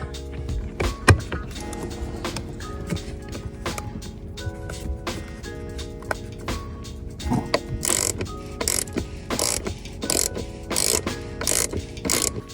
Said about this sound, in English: So we took out the two T20 screws that are under the seat to the plastic.